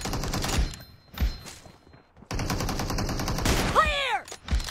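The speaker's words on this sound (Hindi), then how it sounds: "पिस्टल से मार रहा भाई" Pistol fire in PUBG comes as quick, close clusters of sharp shots with short pauses between them, while a voice talks underneath.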